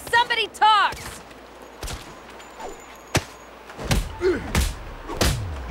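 Gunfire in the video game Saints Row: several sharp, loud shots spaced irregularly, mixed with thuds and game voices talking over and between the shots.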